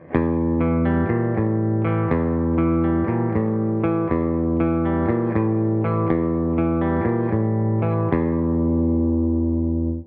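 A heavily distorted electric guitar plays an intro riff, repeating with sustained, ringing chords and choppy palm-muted hits, loud and up close, with no voices.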